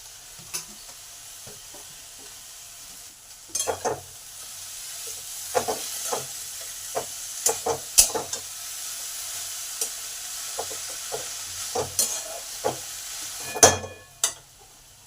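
Thankuni leaves are stir-fried in a pan with a soft, steady sizzle and hiss, while a spatula scrapes and taps the pan in irregular strokes, close and moderately loud, with no talking.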